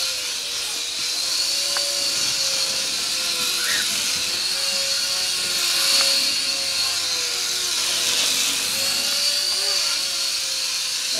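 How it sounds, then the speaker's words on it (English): A mini indoor RC helicopter flies nearby with a steady, high-pitched electric whine from its rotors and small motor, wavering slightly in pitch as it maneuvers, loud and continuous with no talk. "this thing is supremely controllable compared to all other indoor helis that I've ever flown"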